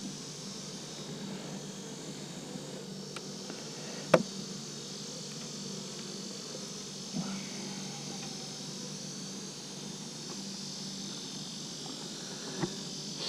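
Honeybees buzz around an open hive in Florida during the fall bloom, a soft steady drone in the background, faint and continuous with a few small clicks and knocks.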